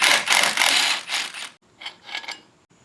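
A half-inch ratchet works bolts on a 700R4 transmission: bursts of fast clicking close by, a longer run of clicks first, then a brief pause and a few shorter, quieter spurts.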